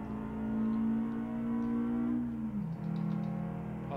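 Volkswagen Passat B8 driving in Euro Truck Simulator 2 on a Turkey map, a steady engine drone with a constant whirring tone that shifts pitch slightly near the end, close and continuous with no talk.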